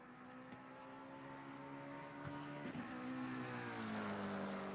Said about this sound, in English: That roar in that car sounds awesome